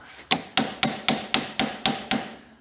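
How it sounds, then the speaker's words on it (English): A hammer strikes a pin on a 1939 John Deere machine to drive it out, eight sharp metallic blows at a steady pace, close and loud with no talk. "I think I need a bigger hammer"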